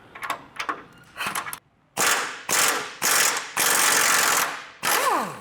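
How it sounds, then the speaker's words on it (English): An air impact wrench works on a 22 mm nut of a Tacoma's front suspension, first in short ratcheting taps, then in several loud hammering bursts of about half a second to a second each, close and unaccompanied by voices. "Hopefully I can just use the air impact on the 1/2 and be able to loosen it"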